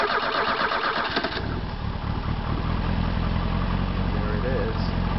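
A V8 engine fitted in a Bobcat skid steer cranks over and then catches, running at a steady, close, rumbling idle.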